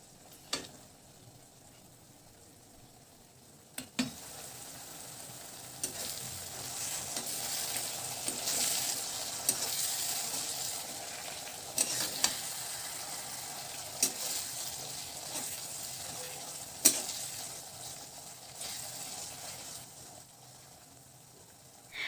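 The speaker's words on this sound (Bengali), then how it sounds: "মশলাটা আমরা আরও একটু কিছুক্ষণ কষিয়ে নেব" Spice masala sautéing and being stirred in a pan for katla kalia, a Bengali catla fish curry: steady sizzling with scattered clicks and scrapes of the spoon against the pan, no talking.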